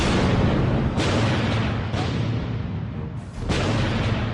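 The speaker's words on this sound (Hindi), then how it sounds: "पहला धमाका" A rocket blast strikes Kabul near the presidential palace during Eid prayers, a loud, rumbling roar that fills the recording, with several sharp surges and reverberating echo throughout.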